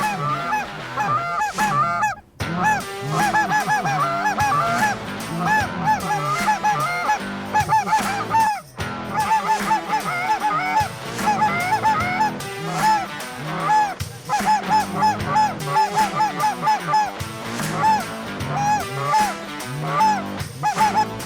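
A dense flock of geese honking continuously and loudly on a morning waterfowl hunt, many overlapping calls filling the air with barely a pause.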